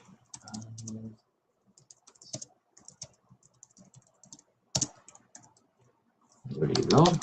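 Someone types on a MacBook keyboard in short, quick bursts of close key clicks separated by pauses. The last burst is the densest, and a voice talks briefly between the bursts.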